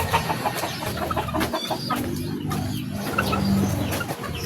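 Several chickens cluck and squawk close by in irregular bursts, with a rooster-like call over a busy, noisy background.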